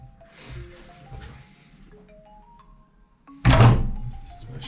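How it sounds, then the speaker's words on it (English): A sharp, heavy crack as a T55 Torx bit breaks a Ford Focus ST225 cylinder head bolt loose, one loud close jolt after quieter tool fiddling and background tones. "Whack it in there and just crack it loose."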